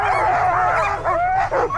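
Sled dogs at the start line of the Kuskokwim 300 race let out a quick, close burst of excited yelping and whining barks, loud and overlapping.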